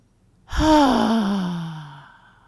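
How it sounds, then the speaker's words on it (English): One deep, voiced exhale during a yoga breathing exercise, a long sighing breath close to the listener that starts suddenly and fades out over about two seconds in a quiet room. "Drop the shoulders and exhale."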